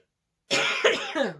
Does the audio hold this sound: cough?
yes